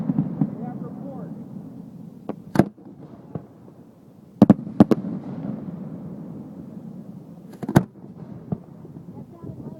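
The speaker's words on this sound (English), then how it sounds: "that's our daylight shells you put in there, huh? Yeah. They sound different." Four-inch daylight fireworks shells burst outdoors at a professional shooting class, several sharp booming reports spaced seconds apart over a low rumbling background, with people talking between them.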